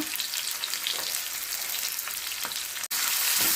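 Cumin and black pepper frying in a hot pan, a dense, bright crackling sizzle that stays steady throughout with a few soft stirring scrapes.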